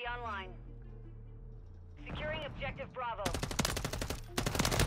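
Rapid automatic gunfire from the video game Modern Warfare 3, loud dense bursts building toward the end, mixed with in-game voices and announcer talk over game music.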